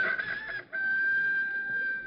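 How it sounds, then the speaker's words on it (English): A rooster crows once, a long sustained call that starts with a short broken burst and then holds steady, fairly loud and close. "A rooster is sitting on the fence."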